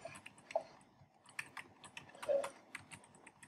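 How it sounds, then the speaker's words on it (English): Fingers tapping on a computer keyboard at close range, an uneven run of quiet clicks and key presses with short pauses, with no talking. "I can hear you typing."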